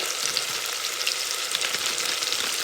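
Ginger garlic paste and pulao masala powder fry in a pan for veg pulao, giving a steady, close, hissing sizzle with faint crackles and no talking.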